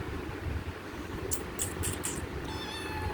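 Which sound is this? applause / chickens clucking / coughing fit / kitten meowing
kitten meowing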